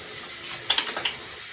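Hot tap water runs steadily as hands are scrubbed with antibacterial soap, a soft close hiss with a few brief splashy bursts near the middle.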